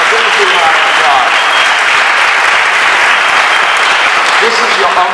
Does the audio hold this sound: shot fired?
no